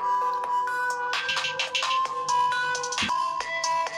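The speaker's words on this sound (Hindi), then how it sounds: "इसके लिए हम मोबाइल में सॉन्ग प्ले करेंगे।" A song plays from a mobile phone speaker, feeding a homemade sound-sensor VU meter; steady melodic tones with a repeating rhythm fill the whole clip at moderate loudness, with no talking.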